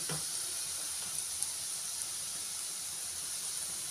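Ginger garlic paste sizzling with browned onions in a pan, a steady faint hiss with a brief clack at the start, close and low, no talk.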